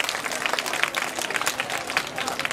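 Audience applause for Sachin Tendulkar during a parenting session talk, a short burst of dense, fast clapping from a crowd, loud and close, running the full length without pause.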